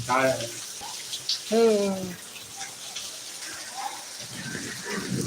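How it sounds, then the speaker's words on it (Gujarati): Heavy rain pours steadily in a parking area with a constant wet hiss, and someone talks over it at the start. "અત્યારે પાર્કિંગમાં ફૂલ વરસાદ છે"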